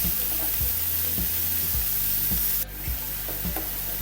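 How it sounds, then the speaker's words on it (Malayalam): Salted bhaji chillies frying in a pan for thoran, stirred with a spoon in steady scraping strokes about every half second over a constant close sizzle, with no talking. "ഈ ഉപ്പ് എല്ലായിടത്തും പുറപ്പെടുന്ന രീതിയിലൊന്ന് മിക്സ് ചെയ്ത് കൊടുക്കാം."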